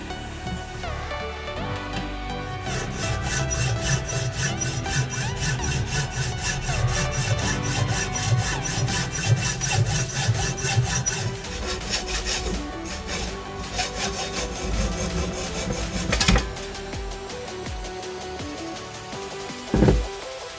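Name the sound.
hacksaw cutting aluminium inlet manifold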